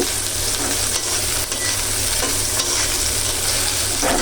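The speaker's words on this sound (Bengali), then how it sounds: "এখন আমি এই যে রসুন পেঁয়াজটা একটু লাল লাল করব।" Garlic and onion fry in a pan, a loud, constant hiss and crackle of hot oil with occasional scraping stirs, close up and with no talking.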